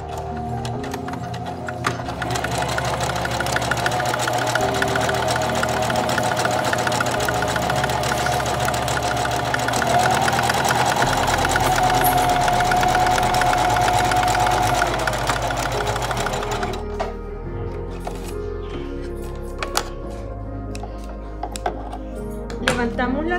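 A sewing machine running steadily as it zigzag-stitches along the edge of Aida cloth, a continuous mechanical hum for most of the stretch before stopping, with a voice speaking around it.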